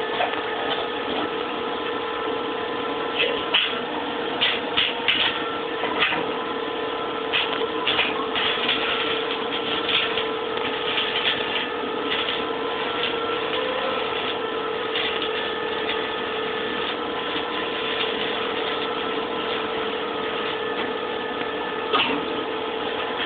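Battery-powered stick welding with 1/8 inch 6013 rods, a continuous crackling, buzzing arc with a steady tonal hum and scattered sharp pops, sustained and close for the whole run.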